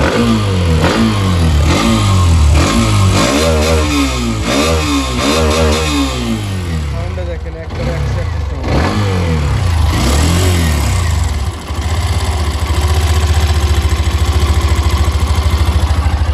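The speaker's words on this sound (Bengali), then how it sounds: "বাইকটার সাউন্ড আমি একটু শোনা দেবো আপনাদেরকে এই সাউন্ডটা একটু শোনা দিই" A 2025 Hero Xtreme 125R motorcycle with about 1,055 km on it revs loudly and close up in repeated rising and falling bursts, then settles into a steady idle.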